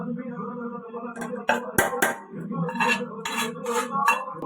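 Plates, cutlery and dishes clink and clatter as food is set out on four plates at home, a busy run of close, light knocks and scrapes with faint murmuring voices beneath.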